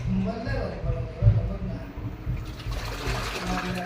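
Water churns and sloshes around wet clothes inside a 9 kg LG washing machine as it fills and agitates, a steady low swishing with a faint trickle, while a person talks over it.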